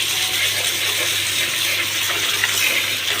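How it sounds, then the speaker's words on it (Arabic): Water pours steadily from a tap over freshly peeled food in a kitchen, a continuous close rushing splash with one brief dip in flow near the end. "نحط بقى عليها الميه"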